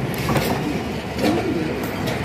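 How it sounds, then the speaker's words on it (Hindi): The Rahman Baba Express rolls through on the loop line at Domeli railway station in Pakistan with a close, steady rumble and rhythmic wheel clatter on the rails. "ये रहमान बाबा को भी लूप लाइन से गुजारा जा रहा है डोमेली रेलवे स्टेशन पे"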